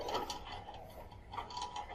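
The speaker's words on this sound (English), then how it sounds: "tighten the belt" A ratchet clicks in quick repeated bursts, close and crisp, as a belt is tightened over a motor pulley to load and block the rotor.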